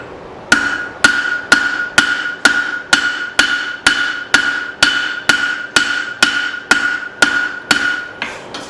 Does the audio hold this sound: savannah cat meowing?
no